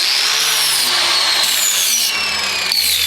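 An angle grinder dressing the sharpened edge of a hardened steel lawnmower blade in a couple of light passes, a loud, bright, continuous whine that shifts slightly in pitch under the load.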